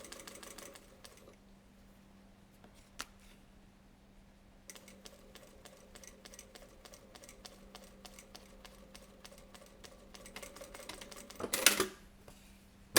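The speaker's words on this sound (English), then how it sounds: "I'm just going to put a stitch in it to hold the wire in place" A sewing machine stitches wire into a homemade mask made from sterilization wrap, giving quiet bursts of rapid mechanical clatter with pauses between, fairly close and without talk.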